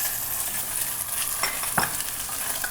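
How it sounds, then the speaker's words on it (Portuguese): Bacon browning in a pan for Brazilian tutu de feijão, giving a steady close sizzle with a couple of brief stirring scrapes. "Eu vou dourar o bacon aqui"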